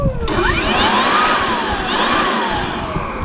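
A cordless handheld leaf blower, either a DeWalt or a Milwaukee, runs steadily and loud with a whining whoosh, and its pitch swoops up and down twice as the throttle changes.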